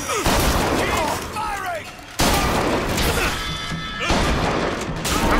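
Loud bursts of gunfire and crashing impacts in Bioshock Infinite, dense and continuous with sharp hits throughout, mixed with game voices shouting over the fight.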